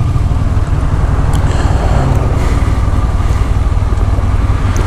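Honda VFR 1200F motorcycle engine running steadily, a loud continuous low drone with rumble and wind noise throughout, no talk.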